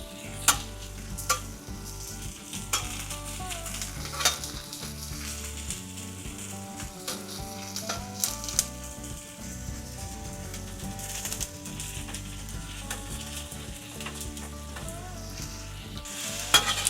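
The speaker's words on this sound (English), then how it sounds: "I'm going to utilize a little of this kind of a puddle of tallow here to keep you guys fried up really good" Bacon-wrapped hot dogs frying in a puddle of beef tallow on a griddle for Sonoran hot dogs, a loud continuous sizzle and crackle with frequent metallic scrapes and taps from a spatula, close up and without talk.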